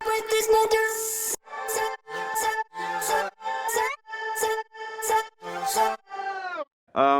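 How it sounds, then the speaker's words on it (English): Chopped vocal samples from the drop of an electronic track, taken from its vocal: a run of short, pitched, sung syllables cut into rhythmic stabs with brief gaps, loud, clean and processed, ending on a quick rising snippet. "the vocal cuts in the drop"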